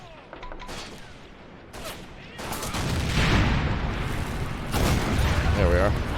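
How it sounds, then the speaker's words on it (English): Artillery guns firing in the WWII strategy game Men of War: Assault Squad, a Barbarossa 1941 bombardment of a Soviet defense line: repeated heavy booms and blasts roll one after another, loud and rumbling, building into a dense barrage. "Let's have our artillery guns start firing on the AT guns then."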